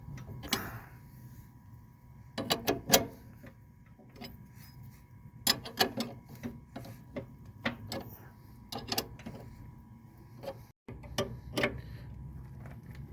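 An 11/16 wrench or socket tightens a bolt on a 2012 Dodge Charger suspension, producing sparse, close ratcheting clicks in short bursts over a quiet garage background.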